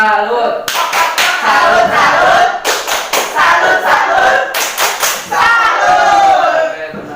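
A group of women claps together in the Indonesian "tepuk salut" routine at a community family-finance training session, loud close rhythmic bursts of clapping separated by short pauses, with voices chanting along between claps.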